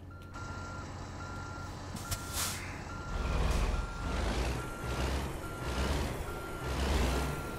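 Steady electronic reversing beeps from a truck in American Truck Simulator, evenly spaced and moderately loud over a rumbling engine, with a short air-brake hiss partway through.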